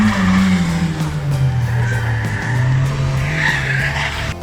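An IP Racing car in a six-hour endurance race at Cadwell Park roars past with a loud, sustained engine note that drops in pitch as it goes by, with tyre squeal and continuous engine noise throughout.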